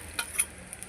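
Spice paste and tomato tipped together into a pan of frying onions give a soft, steady sizzle, with a couple of sharp clinks or stirring taps breaking the quiet hiss.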